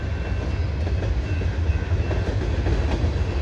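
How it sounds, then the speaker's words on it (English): A CN freight train rolls past on a perfect evening, a steady loud rumble of wheels and cars with faint clickety-clack and a thin whine, continuous throughout. "I just had a feeling a train was going to come soon."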